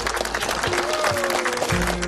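A family gathered at a farm dinner table applauds a visiting guest, producing a steady, close round of clapping mixed with cheerful voices and talking.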